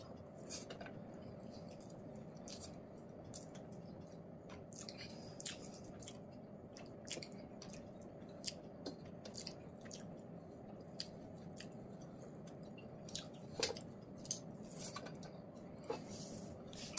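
Close, wet chewing and squishing of meat and rice, soft smacking bites repeating steadily under a low background hum, with occasional sharper clicks.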